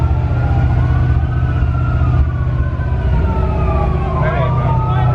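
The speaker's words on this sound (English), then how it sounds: "That's the fire truck." A fire truck siren wails past a crowded car meet in Minneapolis, its rising and falling tones sweeping loudly over a heavy low vehicle rumble, with people talking nearby.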